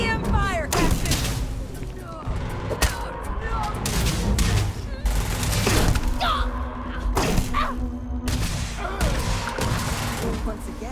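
EM weapon fire during a firefight in the sci-fi game Starfield, a dense run of sharp zaps and thuds with impacts, mixed under shouting voices and combat noise.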